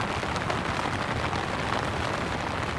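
Heavy rain drums steadily on an MSR Elixir 1 tent at a solo camp, a close, dense hiss of countless drops with no break.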